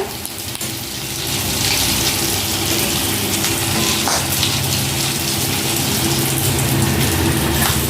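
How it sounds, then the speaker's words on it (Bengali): Egg-coated lentil cakes (dhoka) fry in bubbling, foaming oil in a pan, a steady close sizzle that holds loud and even throughout with no talking. "আমি লাল লাল করে ভেজে নিচ্ছি"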